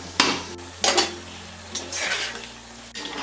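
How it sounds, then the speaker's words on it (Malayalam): A cooking pot of Arabic kabsa rice with its metal lid lifted off, giving a couple of close metallic clanks and scrapes over a faint simmering hiss, no voices. "ഇതിൻ്റെ അടപ്പൊന്ന് ഓപ്പൺ ചെയ്ത് നോക്കാം"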